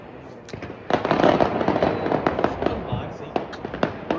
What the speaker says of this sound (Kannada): ನೋಡಿ ಹೆಂಗೆ ನಮ್ಮ ಏರಿಯಾದಲ್ಲೆಲ್ಲ ಪಟಾಕಿ ಇಂಡಿಯಾ ವಿನ್ ಆದಕ್ಕೆ ಹೆಂಗೆ ಪಟಾಕಿ ಹೊಡಿತಾರೆ ನೋಡಿ.